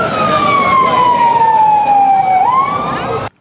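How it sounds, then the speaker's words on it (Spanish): Emergency siren wailing loud and close in the centre of Bucaramanga, a single long tone that slides slowly downward and then rises briefly before cutting off abruptly. "apareció una ambulancia y trasladó a los dos heridos"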